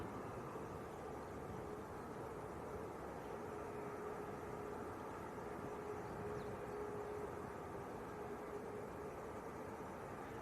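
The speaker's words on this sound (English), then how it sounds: "Two aircraft on approach." Aircraft on approach to Manchester Airport, a faint, distant, steady engine roar with a thin whine on top, sustained throughout with no voices.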